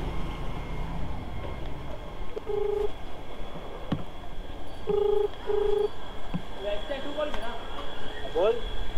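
Phone dialing tones and a ringing call on a handset, several short steady beeps during a Marathi motorcycle outing, heard faintly over traffic and street noise while people talk.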